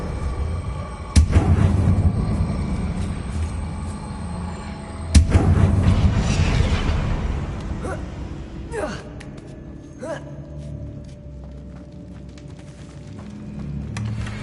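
Spell blasts and magical effects in a Harry Potter video game: two sharp, loud explosive bursts a few seconds apart, each trailing into a rumbling wash, then lighter whooshing and chiming effects fading into ambient hum, with spoken incantations over them.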